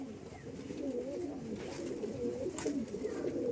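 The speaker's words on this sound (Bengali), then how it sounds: "পায়রা দেখুন তো একটু" Nineteenth-century Madras pigeons cooing close by in a loft, soft rolling low coos repeating steadily over a quiet background.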